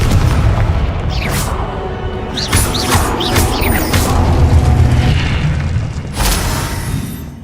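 Confringo spell blasts in Hogwarts Legacy, a run of loud, booming explosions with crackling magical bursts and whooshes, close and forceful, no talking.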